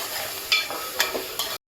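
Onion paste sautés in a pan for chole, a short steady sizzle with three quick stirring scrapes before it stops abruptly.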